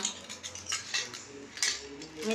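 A new spoon, two bowls and a plate are handled, giving several light, close clinks and taps of tableware at irregular intervals against quiet room noise.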